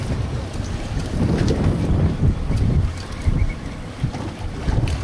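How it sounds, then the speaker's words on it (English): Steady wind at sea buffets the microphone aboard a fishing boat vertical jigging for tuna and wahoo off Hatteras, North Carolina, with a low rumbling roar and water noise beneath it. "Wind coming out of the north-northeast, about 5-10 miles an hour."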